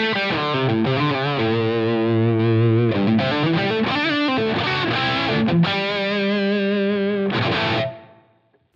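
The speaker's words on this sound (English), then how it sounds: "the EP booster was actually trying to model the sound of the Echoplex EP3" Electric guitar through a Helix Kinky Boost effect modeled on the Echoplex EP3 preamp, playing sustained chords and notes with a driven, slightly distorted tone, loud and alone, ringing out before fading to silence at the end.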